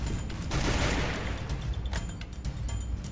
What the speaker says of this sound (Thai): ผมได้ยินเสียงปืนข้างหน้าครับ